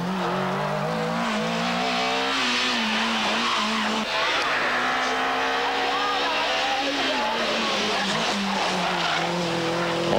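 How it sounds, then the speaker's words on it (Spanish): A BMW 318 rally car at the 1996 Rally Appennino Reggiano in Italy is driven flat out, its engine loud and close, revving and shifting through gears with tyre noise, a commentator speaking over it. "Bizzarri y Serra con el 318 BMW. Les vemos rodando a fondo"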